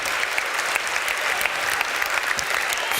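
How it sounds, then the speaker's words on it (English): A large audience claps steadily and densely for three seconds, a loud, sustained burst of applause with no voices standing out. "Give them all a big round of applause, everybody!"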